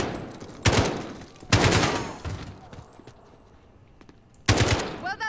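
Three loud bursts of automatic gunfire in a Call of Duty Modern Warfare campaign ambush, each a dense rapid rattle lasting about a second, separated by quieter pauses with faint background sounds.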